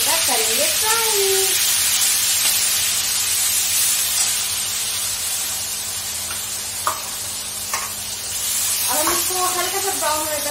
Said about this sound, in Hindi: तो हम इसमें इसको डाल के हल्का ब्राउन होने तक करेंगे फ्राई